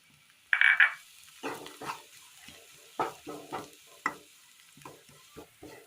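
Grated coconut fries in a little oil in a pan already used to sauté eggplant, with a series of scraping spatula strokes and soft crackles coming in uneven bursts, close and fairly quiet.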